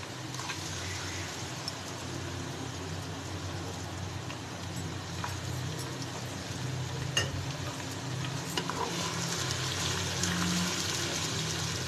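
Ginger garlic paste frying with browned onions in a pan, a steady soft sizzle with occasional stirring scrapes, continuous and fairly quiet throughout.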